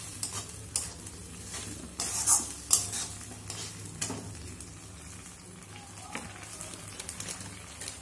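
Mustard, garlic and chilli paste with turmeric worked into pomfret, a soft, close, wet mixing and scraping with irregular clicks and a faint sizzle-like hiss, without talk.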